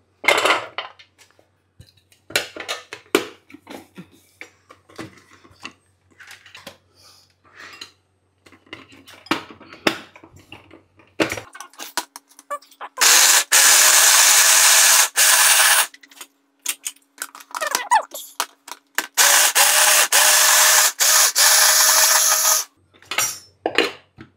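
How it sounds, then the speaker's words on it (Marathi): Chopped carrots for sugar-free gajar halwa clatter into a kitchen mixer grinder, then the grinder runs in loud, harsh whirring bursts that stop and restart, with clinking and knocking around them. "आता मी माझ्या मिक्सरमध्ये थोडे थोडे करून टाकेल, म्हणजे मग ते बारीक करून घेऊ आपण।"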